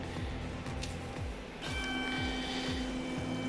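An Eberspacher Hydronic heater sits on a workbench as it is started up. Its pump ticks in a regular rhythm beside a faint humming fan, and a steadier tone comes in partway through, everything fairly quiet.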